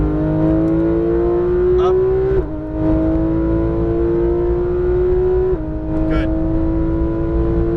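A Porsche 911 GT3 RS engine roars close on a racetrack, climbing steadily in pitch with two quick upshift breaks, while a driving instructor briefly speaks over it.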